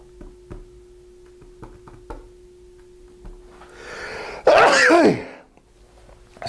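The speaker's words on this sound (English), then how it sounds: "You might want to cut here, I'm going to sneeze." A single loud sneeze bursts out after a quiet stretch of faint ticking and breathing, close to the microphone.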